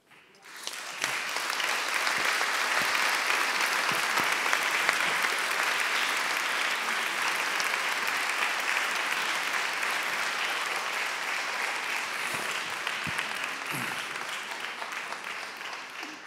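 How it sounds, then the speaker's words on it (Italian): Sustained audience applause fills a lecture hall at a public talk, a dense steady wash of clapping lasting the whole stretch with a few sharper individual claps standing out. "visto il calore di questo applauso"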